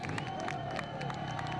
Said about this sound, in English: To the delight of the Belgian crowd here in Namur, they celebrate and applaud the new World Champion